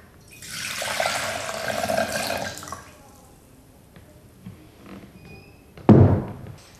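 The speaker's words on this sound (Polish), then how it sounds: "I całą wodę do garnka." Water streams from a jug into a cooking pot in a village community-room kitchen for about two seconds, steady and close. A loud knock follows near the end.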